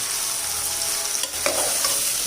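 Tempering spices crackle and sizzle in hot oil during festival cooking in a village kitchen, a continuous close hiss with a few sharper pops and a clink of a utensil partway through.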